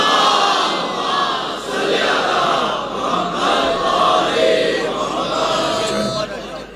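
A large crowd recites salawat in unison, voices rising and falling in rhythmic waves, loud and sustained with no single speaker standing out.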